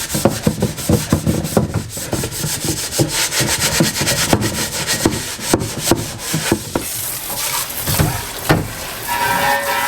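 Scour Daddy sponge with dish soap scrubbing burnt-on mess from an air fryer, a loud, close, continuous rubbing and scraping with rapid uneven strokes throughout, no voices.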